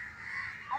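A boy imitates a crow's caw with his voice to call crows outdoors, one drawn-out harsh cry followed by a short rising end, fairly close.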